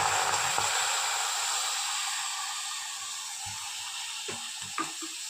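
Half a cup of milk hitting hot caramelised sugar in a pan sets off a loud, close, broad sizzling hiss that slowly fades, broken near the end by a few small clinks and knocks.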